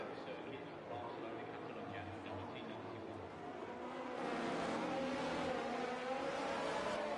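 Race car in a racing video game accelerating hard out of a safety-car restart, engine roar growing louder and rising in pitch under continuous commentary.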